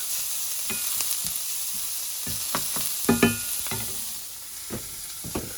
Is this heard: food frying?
yes